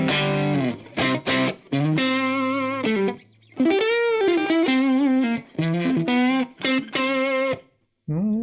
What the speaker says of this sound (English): So I've just got a little bit of room reverb just from Logic